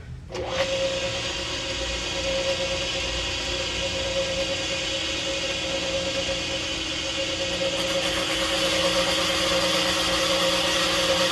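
Van Norman 777S boring bar cutting a cylinder in a Chevy 350 block, a steady droning machine hum with a constant whine, running continuously and fairly loud with no talk.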